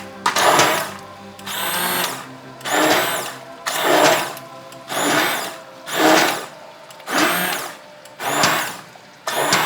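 Kitchen blender pulsing cauliflower soup with cilantro, seven short whirring bursts in an even rhythm separated by brief pauses, loud and close with no talk.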